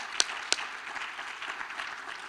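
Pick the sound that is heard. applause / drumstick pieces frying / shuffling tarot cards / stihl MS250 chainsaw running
applause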